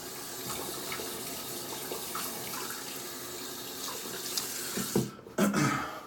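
Shaving lather being rinsed out under a running tap, a steady rushing stream of water with slight splashing changes near the end as the flow is disturbed and then stops briefly.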